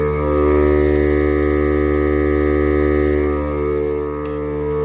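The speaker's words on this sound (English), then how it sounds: "I'm asking quite a bit of the old new Milwaukee air compressor." A Milwaukee cordless air compressor runs with a loud, steady droning hum, sustained and close for several seconds with no talk.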